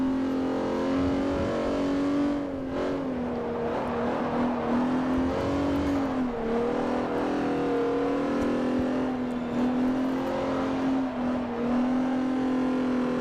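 A slow Class F race car on a European tour circuit in Forza Motorsport 4 drones steadily and loudly throughout, its engine pitch rising and dipping with throttle and gear changes, with no talk over it.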